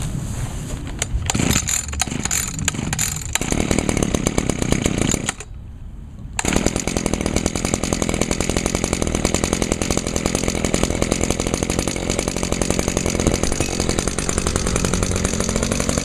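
A small two-stroke lawn trimmer engine is pulled several times, catches, cuts out briefly, then starts and runs at a loud, steady buzzing idle close to the listener.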